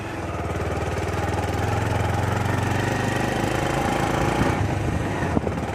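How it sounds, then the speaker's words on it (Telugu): Motorbike engine pulling uphill on a hill road in second gear, a loud steady droning thrum held close throughout, slightly rising in strain, with no talk. "సెకండ్ గేర్లో బైక్లో"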